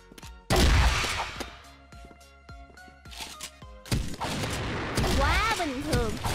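Gunfire in the first-person shooter CrossFire: loud, close bursts of rapid shots with sharp individual cracks and brief pauses, continuing throughout, with a voice briefly audible near the end.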